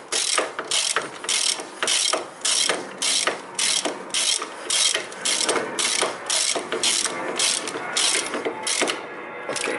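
Ratchet wrench clicking in rapid bursts while a bolt is fastened on the front brakes of a 2002–2010 Toyota Corolla during a pad replacement, close and loud, with short pauses between strokes and no talk.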